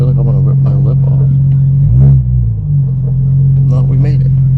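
Interior drone of a BMW N54 engine fitted with a Speedtech bottom-mount single turbo kit, a loud steady low rumble with a brief rise and dip in pitch midway, while someone talks over it throughout.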